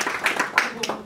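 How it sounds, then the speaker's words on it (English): Scattered clapping at a tech launch event honoring a sponsor, a few loose, uneven claps from a small crowd, fairly close and moderately loud. "a round of applause for Citrix"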